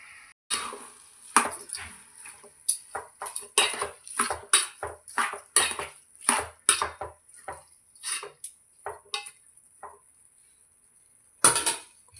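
Metal and ceramic clatter in a kitchen as a plate is set over a cooking pan of tomato curry, a run of sharp knocks and clinks close up, then quiet before one last clunk.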